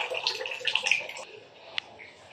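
Water dripping from a leak above onto a dusty floor in a Manila house, heard as a broad splashy patter with one sharp drop near the end.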